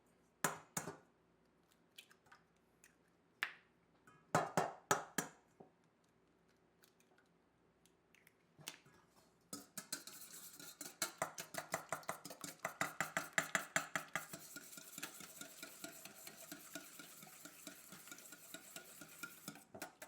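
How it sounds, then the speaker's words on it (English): Eggs beaten by hand in a bowl while making zucchini bread, first as a few scattered taps and clinks, then as a steady run of quick, rhythmic whisking strokes, close and fairly quiet, with no talking. "We're going to do our eggs. We're going to get these beat up."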